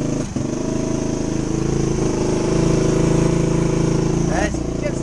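A brand-new 2021 125 Gunshot motorcycle runs right after being kick-started for the first time. The engine hums steadily and loudly close by, and someone talks over it.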